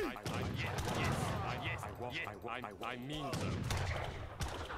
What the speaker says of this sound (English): All right, more rockets on the way. We're sending them infinitely at this point.